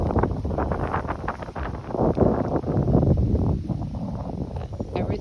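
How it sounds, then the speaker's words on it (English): Strong wind buffets the microphone outdoors in a lush home garden beside a flower bed, a steady low roar with gusts swelling and easing throughout. "I know it's really windy right now."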